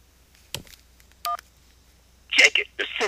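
A single short keypad tone rings out as a key is pressed during a cell phone call, and a voice starts talking a moment later.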